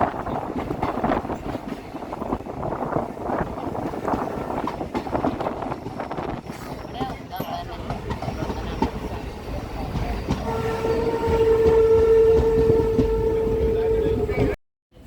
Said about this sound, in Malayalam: നമ്മൾ ട്രെയിൻ സ്ലോ ചെയ്ത് തുടങ്ങി